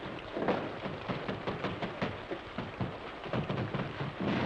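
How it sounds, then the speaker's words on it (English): Steady rain pours down with low rumbling thunder in a 1952 Western film scene, a dense continuous hiss filling the background with no voices. "Holy smokes, it's raining."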